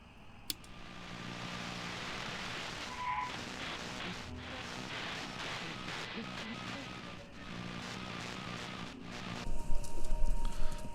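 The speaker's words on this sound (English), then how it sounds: "What's this station? I never heard this before. It sounds like horses." Galloping horses play over the radio in the video game Kentucky Route Zero, a steady muffled clip-clop of hooves running at a moderate level, with a few sharper knocks and a louder burst near the end.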